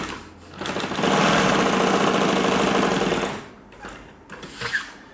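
An upholstery sewing machine runs fast and loud, a steady motorized stitching whir that holds for about two seconds, then slows and stops, followed by a few short quieter bursts of stitching.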